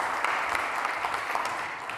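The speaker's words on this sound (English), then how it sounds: "Please, a round of applause for Florian." An audience at the DappCon25 conference in Halle applauds a speaker with steady, dense clapping that fills the whole moment at an even level.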